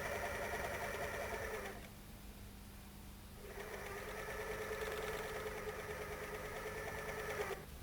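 A My Lock 503 overlocker flat-locks fabric seams, running in two close, steady bursts of rapid whirring stitching with a short quieter pause between them.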